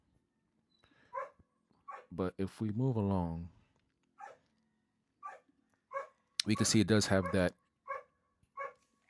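Family dogs bark in short, sharp bursts at intervals, with a couple of louder, longer outbursts; a person talks between and over the barking in a quiet indoor setting.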